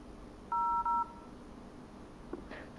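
Two quick dialing tones sound on a Pipo W6S tablet, a pair of short clear beeps close together, followed by faint background hiss and a small click.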